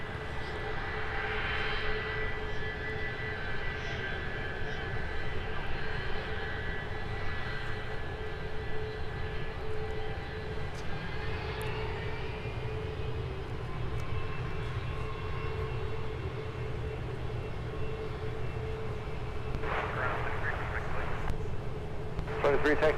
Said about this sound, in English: here is our diversion inbound from San Diego with a heavy 767